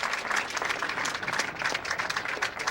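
Crowd applause at the 1996 World Team Challenge bowling championship in Cheektowaga, New York, a steady wash of clapping from many hands lasting throughout.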